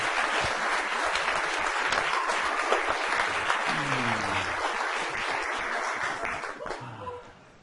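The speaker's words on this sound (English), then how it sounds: "Give Ahmed another big round of applause." A live audience at a barbecue-themed event applauds in a dense, sustained wash of clapping that fades at the end, with a voice briefly audible as the applause dies down.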